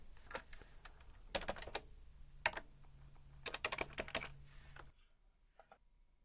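Key clicks on a computer keyboard as a username and password are typed to log in to a Red Lion N-Tron NT5000 managed gigabit Ethernet switch, coming in irregular bursts of close, crisp taps with short pauses between them, and no voice.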